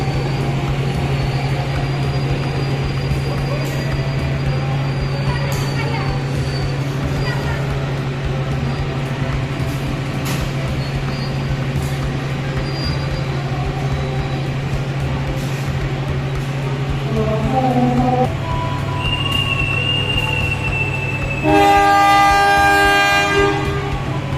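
The Progo passenger train rumbles steadily nearby with a low engine drone, then a loud, sustained multi-tone horn blares near the end as it pulls away from Purwokerto station.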